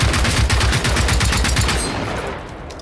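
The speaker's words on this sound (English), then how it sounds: "One clip of armor-piercing rounds does it." Rapid automatic fire of armor-piercing rounds in a video game, a loud continuous stream of close shots that tapers slightly at the end.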